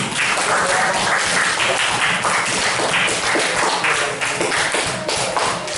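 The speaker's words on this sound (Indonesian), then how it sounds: "Oke, beri aplaus saja dulu" Classroom applause from a group of students, dense and steady clapping throughout at close range with no talking over it.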